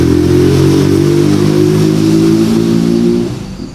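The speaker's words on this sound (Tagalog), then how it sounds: "may motor dumaan." A motorcycle passes close by with a loud, steady engine drone that holds for a few seconds and then fades as it moves away.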